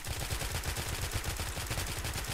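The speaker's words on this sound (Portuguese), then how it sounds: "Ó os tiros, ó os tiros, ó as balas comendo." Rapid bursts of gunfire in a GTA multiplayer match crackle continuously, dense and loud, with shots overlapping in a fast rattling stream.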